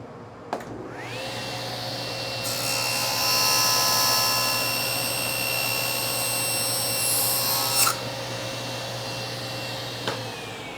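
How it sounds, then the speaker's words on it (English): Table saw cutting wood for a triple miter joint: the motor spins up with a rising whine, holds a steady loud drone while the blade bites through the stock for several seconds, then winds down. "And I will use my table saw to do that."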